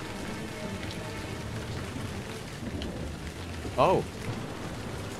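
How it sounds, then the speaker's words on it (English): Steady rain patters across Gotham rooftops in a Batman video game, a constant even hiss with a brief spoken exclamation near the end. "Oh no, it's raining on this. No, it's raining everywhere."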